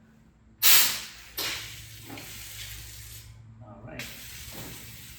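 Water bursts from a stainless steel garden hose nozzle on jet setting in a loud hissing spray, then a second shorter burst follows, with a person talking briefly at the start.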